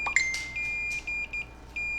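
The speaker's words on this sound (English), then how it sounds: "we're going to get a beep to ground on both sides of that cap" A multimeter in continuity mode beeps as a probe is held to ground on a motherboard: a steady, clear electronic tone that sounds for most of the stretch, briefly interrupted by short dropouts as the probe contact shifts, over faint background noise.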